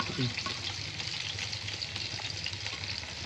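Curry leaves crackle and sizzle in hot coconut oil for a Kerala shark curry, a steady close frying hiss with a brief burst of sputtering pops near the start and no talking.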